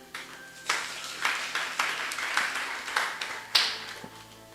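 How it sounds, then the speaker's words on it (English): A church congregation claps during a sermon, a loose run of moderate applause with a steady patter of hand claps that starts suddenly and fades after a few seconds. "I thought you should clap out for what I just said."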